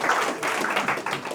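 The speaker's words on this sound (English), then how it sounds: "We're getting a lot of applause tonight." Audience applause at the launch of the poetry magazine Crannóg: a dense, steady patter of clapping from a room full of people.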